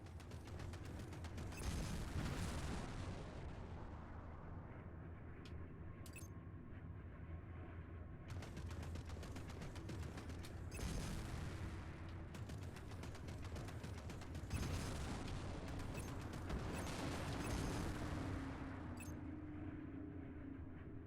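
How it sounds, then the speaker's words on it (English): Rapid energy blasts from plasma cannons in the space combat game Strike Suit Zero, loud and continuous bursts layered over mechanical clatter and a steady engine drone with no speech. "Okay, so you remember how to fire your plasma cannons."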